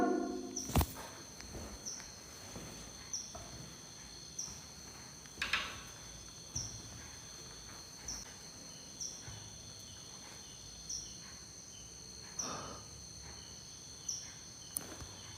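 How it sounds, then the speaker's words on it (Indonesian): Crickets chirp at night in a village near Yogyakarta hit by a volcanic eruption: thin, faint, regular chirps about every second in a quiet setting, broken by a few soft clicks. "Jangkrik kali ya men ya?"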